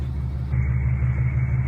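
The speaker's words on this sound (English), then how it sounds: "Excuse the ticking, that's just the injectors" A BMW E36 engine idles steadily with a low, even rumble, a faint rapid ticking from the fuel injectors running through it; no talk.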